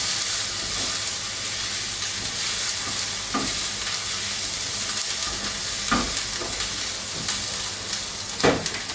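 Onions fry in a pan with a continuous, even sizzle and hiss, broken by intermittent scraping clicks of stirring. No voices are heard.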